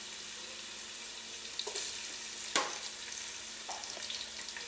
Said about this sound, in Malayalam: അതിലേക്ക് ഇഞ്ചിയും വെളുത്തുള്ളിയും പച്ചമുളകും ചേർത്ത് കൊടുക്കാം.